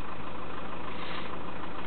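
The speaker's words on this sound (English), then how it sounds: "start the engine" A car engine idles steadily with a constant low hum and even mechanical drone, running alone without any talk.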